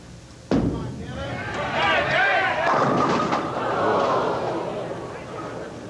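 A bowling ball striking pins at a 1982 professional tournament, a sharp crash followed by scattering pin clatter and rising crowd noise, with a commentator speaking.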